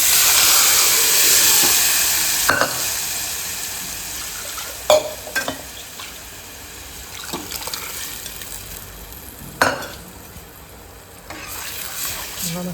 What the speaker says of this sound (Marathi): मी आता फोडणी देते डालीला फोडणी देते